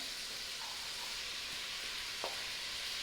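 Chopped onion sizzles in a pot for a low-carb Cajun gumbo, a soft, steady frying hiss with a faint clink or stir partway through, heard alone at low volume.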